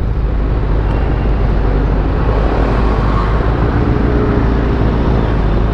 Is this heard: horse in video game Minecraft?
no